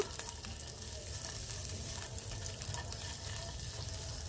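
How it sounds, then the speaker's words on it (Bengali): Raisins, cashews and almonds frying lightly in ghee give a soft, steady sizzle that hisses evenly throughout at low volume, with no talking over it. "আমি এইগুলা হালকা ভেজে উঠায় রাখবো"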